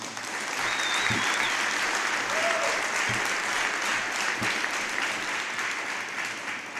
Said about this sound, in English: join in one big more round of applause for these seniors